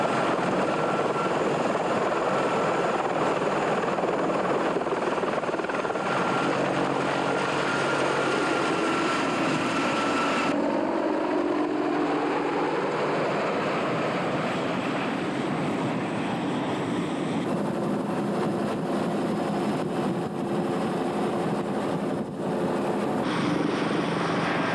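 Apache attack helicopter flying, a loud continuous rotor and turbine roar with shifting pitch as it passes, steady and close throughout with no voices.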